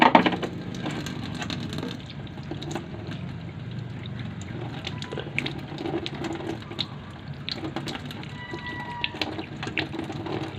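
An object dug up from a garden is rinsed under running water, giving a steady splashing wash with scattered knocks and scrapes as it is handled, close up and without talk.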